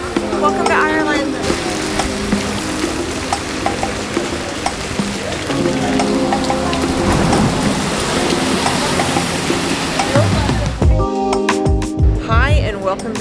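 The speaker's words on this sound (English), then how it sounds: "it's pouring down rain" Heavy rain pours down steadily in Dublin, Ireland, a dense hiss running the whole time with a possible rumble of thunder and voices talking over it.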